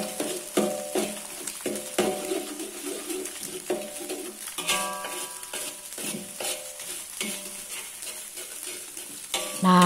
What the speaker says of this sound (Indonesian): Langsung kita aduk-aduk hingga bumbunya ini sampai layu dan juga wangi.